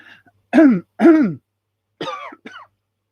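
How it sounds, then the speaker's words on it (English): A person clears their throat and coughs in four quick bursts, two loud, close rasps followed by two lighter ones, with no talking. "I don't want to start coughing again"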